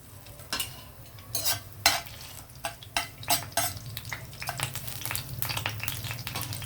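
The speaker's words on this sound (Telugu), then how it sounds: "సో వెల్లుల్లి వేసేద్దాం" Garlic frying in hot oil with urad dal in a pan, making a low steady sizzle overlaid with repeated sharp spatula clinks and scrapes, close and fairly quiet, with no talk.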